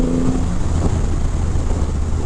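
A 2023 Triumph Rocket 3 GT motorcycle with a 2500 cc engine drones loudly and steadily with a deep, rumbling low-end hum throughout, with no voices.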